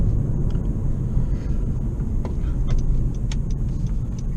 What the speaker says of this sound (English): I want to check its U-turn radius.